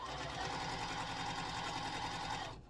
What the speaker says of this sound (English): So just flip this over and sew this to your stem.